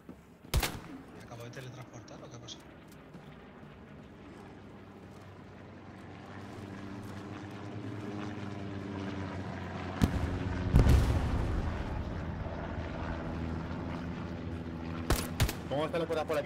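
Gunfire and artillery in the World War II shooter Hell Let Loose: sharp single shots, a heavy blast midway and a cluster of cracks near the end over a constant engine-like drone, with voices talking now and then.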